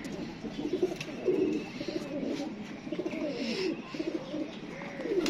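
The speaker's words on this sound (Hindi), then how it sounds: "ये जी दोस्तों ये तीसरा कबूतर है" Pigeons coo repeatedly in soft, rolling bursts, several birds overlapping at close range against a faint background hiss.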